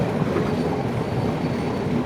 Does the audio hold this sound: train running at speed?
yes